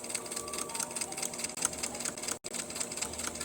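A sewing machine stitching fabric for clothes, a quiet rapid mechanical chatter with steady rhythmic needle clicks, broken by one brief pause before resuming, with no talking.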